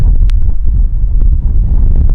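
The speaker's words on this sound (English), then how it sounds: "Super windy right now too." Loud, steady wind buffets the microphone with deep rumbling gusts throughout at an outdoor archery range, and no other sound breaks through.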